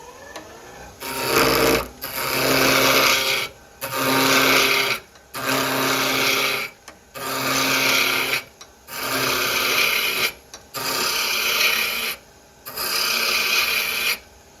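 Wood lathe spinning a wooden top at about 2000 rpm while a ball gouge cuts it, a harsh rasping whir in about seven repeated bursts separated by short pauses, close and loud.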